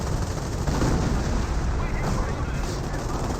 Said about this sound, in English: Command tank firing his machine gun against the Stug.